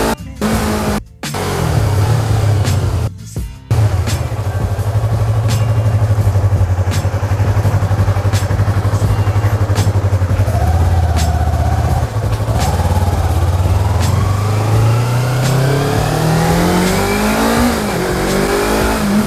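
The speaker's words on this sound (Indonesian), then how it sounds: "langsung aja kita akan coba untuk test ride motor ini ke depan" Yamaha MT25 250cc sport motorcycle on a test ride, its engine droning loud and steady throughout, rising and falling in pitch as the rider accelerates and shifts, with a few brief dropouts near the start.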